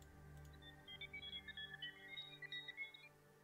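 A Minecraft modpack quest-completion signal: a faint string of short, high electronic beeps, repeated in quick succession over a low steady hum.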